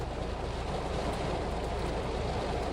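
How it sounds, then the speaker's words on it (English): Heavy rain pours steadily outdoors, a dense, loud, continuous wash of noise with no breaks, no voices. "It's pouring, chat."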